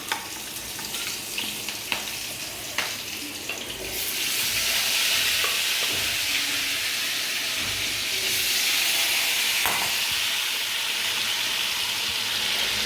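Brinjal and potato pieces fry in hot oil in a kadai with black cumin and green chillies, a steady sizzling hiss that swells louder and fuller partway through, with no talking.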